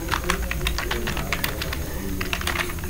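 Rapid clattering keystrokes on a computer keyboard while a program is being written, an uneven stream of close, crisp taps with no talking.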